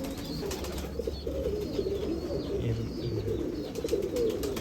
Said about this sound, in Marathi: असं निळ कबूतर आहे